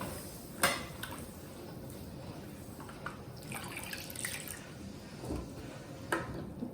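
Milk is poured into a cooking pot while making mishti doi, a sweet curd. A soft, quiet liquid stream runs under a few light clinks of the pot.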